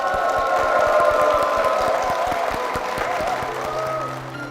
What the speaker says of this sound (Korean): 두 분께 축복의 박수 부탁드리겠습니다.